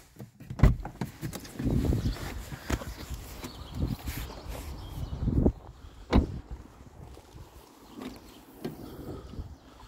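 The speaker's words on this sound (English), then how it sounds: "now to open up with a BMW like the Mini, you got to pull this lever here twice" A 2016 BMW 1 Series bonnet release lever is pulled twice and the bonnet opened, giving sharp clicks and clunks with a rattle and a heavier thump, close by and loud, and no talking.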